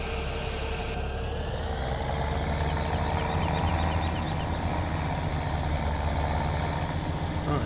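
Steady tractor engine with a tipper trailer in Farming Simulator 17, a continuous low rumbling drone that holds constant and fairly loud throughout, with no voices.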